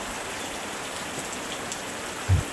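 Steady rain falls through the night in an even, soft hiss, continuous and fairly close, with one faint low thump near the end and no voices.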